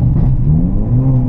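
A manual Hyundai Elantra N engine revving while brake boosting, holding a loud steady mid-pitched drone with a slight rise in pitch and no voices.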